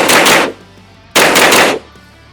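Two rapid bursts from a Ruger 10/22 rifle at a shooting range, each a quick string of loud, close cracks lasting about half a second, separated by a brief pause.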